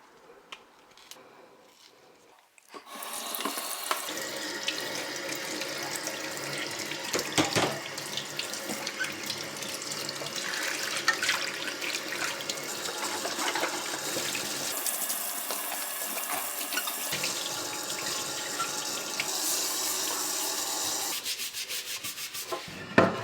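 Water bottles being washed and scrubbed under a running kitchen sink tap, a steady rush of water with continuous rubbing and scrubbing, after a quiet opening couple of seconds.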